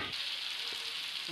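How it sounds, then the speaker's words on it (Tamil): Raw mango pieces sauté in a generous amount of hot oil along with onion and garlic, giving a steady, close, even sizzle that runs throughout with no talking. "அடுத்தது மாங்காய் கொஞ்சம் எண்ணெய் அதிகமாக ஊற்றி எண்ணெயில் போட்டு நல்லா வதக்கிக்கலாம்."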